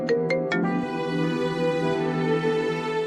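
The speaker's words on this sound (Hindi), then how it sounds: "चांदनी की कॉल" A mobile phone rings for an incoming call, its ringtone playing as a steady electronic melody that fills the room.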